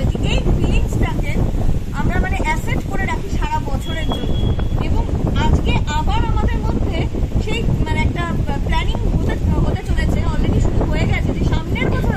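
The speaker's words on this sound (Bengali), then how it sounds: "দেখো কি হাওয়া দিচ্ছে" Strong wind buffets the microphone during a boat trip on rough water, a continuous low rumble and roar under nearly constant close conversation.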